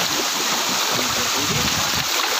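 Marambibit Falls roars as a steady, loud wash of falling water close by, with voices faintly underneath.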